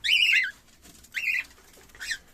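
Caged budgerigars, rainbow and lutino parakeets, give three bright chirping bursts close by, with quieter rustling and faint chatter between calls.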